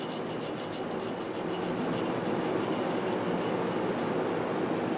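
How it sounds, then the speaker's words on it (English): A piece of chalk rubbed briskly over the scale of an AMMCO brake drum micrometer, a loud, close, continuous rasping scrape with a quick repeating back-and-forth rhythm and no talking. "you could try a trick where you take a piece of chalk and just rub it over the top"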